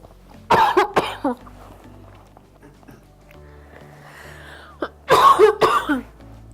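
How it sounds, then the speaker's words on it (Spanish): Two bursts of harsh, hacking coughs, a short fit near the start and another after a quiet stretch, close to the microphone. "¡Qué onda la tos!"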